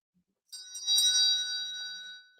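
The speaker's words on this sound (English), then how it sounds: "I had to ring my bell" A small hand bell rings once, a bright metallic strike with clear ringing overtones that swell briefly and then fade slowly over about two seconds, close and alone.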